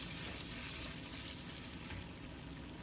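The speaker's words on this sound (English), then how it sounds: "I've added 1 tablespoon of oil and getting the tofu in it. Let's stir fry this" Tofu stir-frying in a tablespoon of oil over a high flame gives off a steady, even hiss of sizzling throughout, with no talk.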